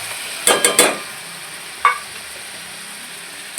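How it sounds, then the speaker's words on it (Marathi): Spices including turmeric, chilli, salt, coriander and cumin powder fry in oil, with a quick cluster of three metal spoon scrapes against the pan, a single later scrape, and a faint steady sizzle in between. "मसाल्याला सुटलं तेल, यात घालायचं आपल्याला बेसिक मसाले, हळद, तिखट, मीठ, धने पावडर, जिरा पावडर आणि काळा मसाला."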